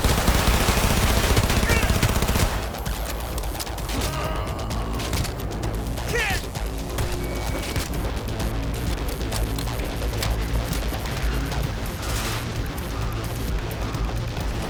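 Rapid bursts of automatic gunfire and loud explosions in the video game Cyberpunk 2077 fill the whole stretch, dense and continuous, with a heavier blast at the start.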